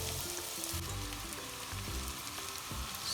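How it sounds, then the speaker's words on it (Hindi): Chopped onions fry in a pan for a turnip (shalgam) dish, a steady close sizzle and crackle running unbroken throughout with no talking. "अब हम इसमें डाल रहे हैं 2 चॉप्ड अनियंस। अब हम इसको अच्छे से थोड़ा सा कुक करेंगे 3-4 मिनट"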